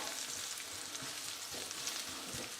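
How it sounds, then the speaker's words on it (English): Chopped shallot frying in hot oil in a pan, a steady faint sizzle with soft stirring clunks, no talking. "I'm going to add in my shallot. I'm just going to quickly fry that off"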